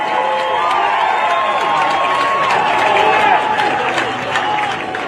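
A stadium crowd cheers at a mile track race, a broad sustained roar with scattered claps and an announcer talking over it.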